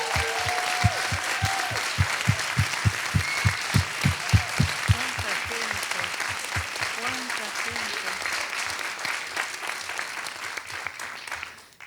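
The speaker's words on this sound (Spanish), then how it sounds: "Y quiero pedir un aplauso para empezar." An audience at a Filba 2024 literary festival reading breaks into long applause, with steady rhythmic low thumps under the clapping in the first half before the crowd noise gradually fades out.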